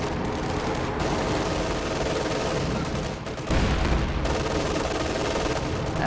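In a video game match, a machine gun hammers out sustained automatic fire under a thick layer of battlefield noise, briefly dipping before a heavier burst resumes, loud throughout with no talking.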